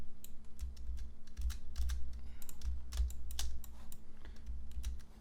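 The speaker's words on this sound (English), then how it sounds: "I'm dropping it down with my keyboard down arrow key" Computer keyboard keys pressed during card design work in software, a steady run of quick, close clicking taps with irregular rhythm over a low hum, no talking.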